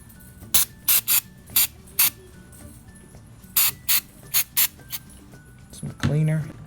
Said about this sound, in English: we're gonna spray some